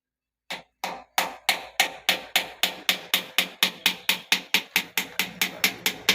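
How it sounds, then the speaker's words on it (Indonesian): A chisel is hammered against a stuck gearbox oil plug on a Mitsubishi T120SS, about eighteen sharp metallic blows in a steady, slightly quickening rhythm, loud and close with no talk. "Terpaksa harus kita pahat supaya bisa dibuka."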